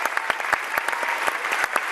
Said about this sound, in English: would you please give a round of applause to Jana Lee Richens